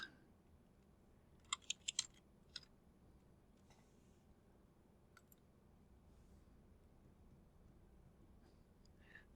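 Someone types a password on a computer keyboard, producing a quick cluster of faint key clicks followed by a few scattered taps against a quiet room hum.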